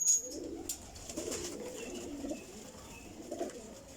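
High-flying pigeons coo softly in a few low, rolling bursts, faint and nearby against a quiet background.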